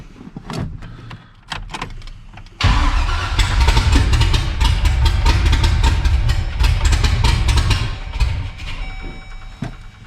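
A freshly rewired car engine cranks and catches, then settles into a loud, steady near-field idle with a broadband rumble that holds for several seconds before easing slightly.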